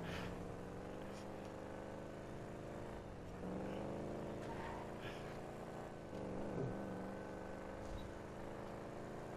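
A car in GTA V Online drives along, engine hum shifting in pitch as it revs and eases, moderately close and fairly quiet, with occasional brief noises over it.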